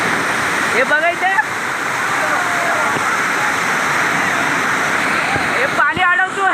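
The Ghatkopar hidden waterfall pours in a steady, loud, broadband roar that fills the whole stretch, with brief voices or calls rising over it near the start and end.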